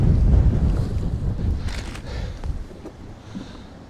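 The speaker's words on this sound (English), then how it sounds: "that wind's picking up" Strong wind blowing by the sea at a fishing spot in Poole Harbour, buffeting loudly and roaring across the microphone, with waves and water heard underneath throughout.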